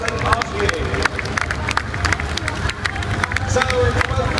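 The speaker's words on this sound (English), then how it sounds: "Now please give these drivers a round of applause" Crowd in an indoor motorsport arena clapping and cheering for stock car drivers at a live action show, a dense steady patter of applause mixed with babble and engine rumble underneath.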